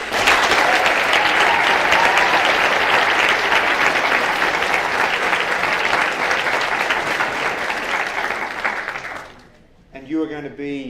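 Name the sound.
audience applause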